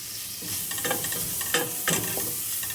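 Ginger dropped into hot oil in a pan and stirred, giving a steady sizzle with a few louder stirring scrapes and crackles, close and continuous with no talking.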